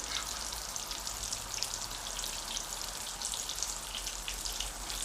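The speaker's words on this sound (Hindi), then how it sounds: "जी 7 मिनट हो गए हैं इस साइड से भी फ्राई होते हुए।" Mutton keema kababs fry in a pan with oil, giving off a steady, faint crackling sizzle with tiny popping bursts throughout.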